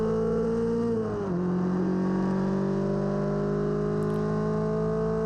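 Mono 1600 single-seater race car engine pulling hard at Silverstone, a quick dip at an upshift into fourth gear, then a steady, rising high-pitched drone, loud and close from on board.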